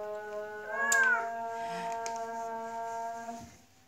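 A black Bombay cat gives a single drawn-out meow, close and clear, against a quiet background with a faint steady hum.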